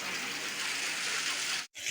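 Floodwater from heavy rain inside a house in Jamnagar rushes in a dense, steady hiss, cut by a brief silence near the end before resuming.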